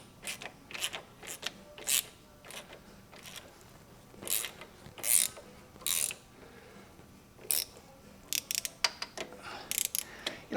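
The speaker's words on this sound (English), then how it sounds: "let me grab a ratchet real quick" A ratchet wrench works on parts of a 1957 VW Beetle during a disc brake upgrade, giving repeated bursts of sharp clicking with uneven pauses and occasional clunks, close up and with no talking.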